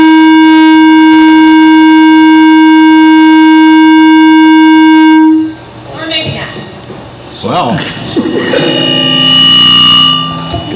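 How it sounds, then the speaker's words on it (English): A loud, steady siren with a sustained pure tone blares during a board meeting for about five seconds before cutting off, then people talk and laugh in the room. "Goes out with a siren."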